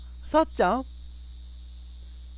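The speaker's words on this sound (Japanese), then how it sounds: "セミの声が聞こえるよ。" Cicadas drone in a continuous, even, high-pitched hum in a summer scene from the game Uramikko, while a voice briefly speaks near the start.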